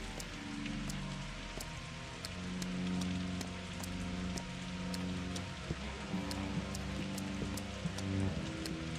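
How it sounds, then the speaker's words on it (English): Steady rainfall in the Pathologic 2 game world, a soft, even patter with fine droplet ticks over low ambient music, fairly quiet and with no one speaking. "And there's rain"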